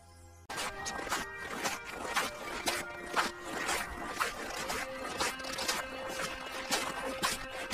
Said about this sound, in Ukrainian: Скрип снігу.